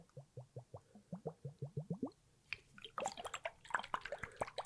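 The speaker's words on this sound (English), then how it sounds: "The infamous water balls." Squishy water balls handled up close, giving a rapid run of about a dozen soft wet plops in a steady rhythm, then a denser, brighter burst of squelching and plopping.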